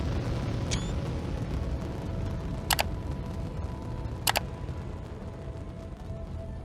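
A rocket launches in the video game Eden Crafters, set on an ocean world, with a constant dense low roar throughout and a couple of brief sharp electronic chirps on top.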